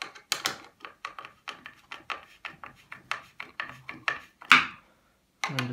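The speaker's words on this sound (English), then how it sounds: "And just tighten the screws." Screws being tightened into a small model WWE-style wrestling stage piece, giving a close, steady series of short dry clicks and scrapes as the screwdriver turns, with no talking.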